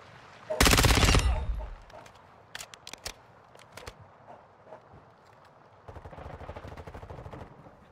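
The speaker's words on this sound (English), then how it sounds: "Somebody's trying to shoot me." Call of Duty gunfire opens with a loud, sharp automatic burst, then scattered single shots and clicks, and ends with a quieter rapid rattle of fire farther off, amid in-game sounds.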